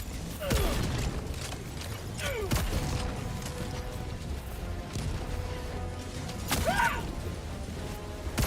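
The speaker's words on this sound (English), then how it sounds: "Reloading!" Weapon reloading in Helldivers 2: a few sharp mechanical clacks and ratcheting clicks, spaced several seconds apart and close by, over quiet background battle noise.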